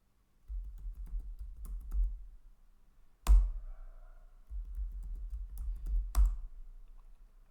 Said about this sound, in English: And type a password here.